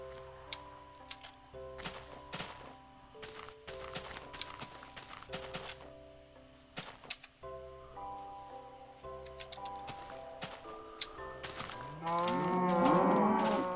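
Cows in the video game Minecraft moo repeatedly, several overlapping calls at moderate distance, alongside clicking footstep-like ticks and a louder burst of game sound at the end.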